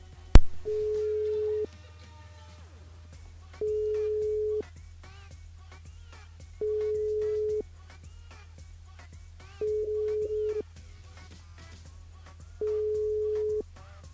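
Telephone line tone while calling a listener back on a radio show switchboard: a sharp click, then five evenly spaced steady beeps, each about a second long with pauses between, clean and close.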